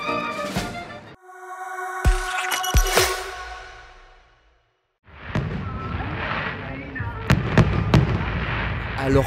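Fireworks display on a July 13 evening in Thionville, France: loud booming bursts and crackling explosions, several in quick succession, then a short lull before more scattered blasts and crackles.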